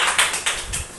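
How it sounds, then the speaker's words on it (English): Classroom applause for a student group after a presentation: a brief burst of scattered hand claps, fairly close, no voices over it. "Let us give a round of applause for group 2."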